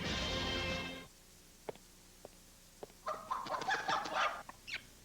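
Chickens cluck in a television commercial aired during an arena football broadcast, a burst of soft clucks and a short crow-like call after a loud musical opening, with scattered clicks.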